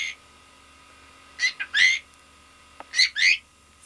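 A pet bird squawks in two short clusters of sharp, loud, close calls, with two or three harsh bursts in each cluster and a quiet pause between them.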